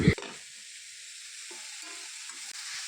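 Ridge gourd and onions fry in a pan with a soft, steady sizzle and hiss after a brief knock at the start. The sound is faint and continuous, with no talk.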